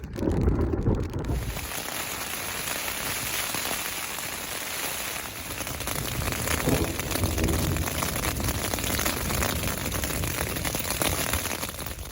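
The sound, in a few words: rain during a thunderstorm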